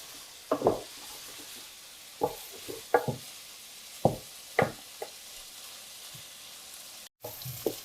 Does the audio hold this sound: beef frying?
yes